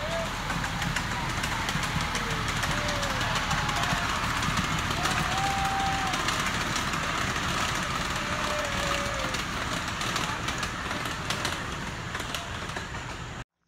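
A diesel train passes close by with a loud, continuous rumble and clattering rail noise. The sound holds steady for the whole stretch and fades slightly at the end.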